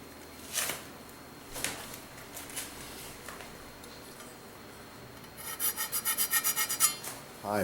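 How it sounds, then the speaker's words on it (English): A bench scraper rasps across a kitchen work surface, clearing off dirt: a few separate scrapes, then a quick run of rapid rhythmic strokes, close and fairly quiet. "So as it gets dirty, we're using the bench scraper to scrape it off, just like this."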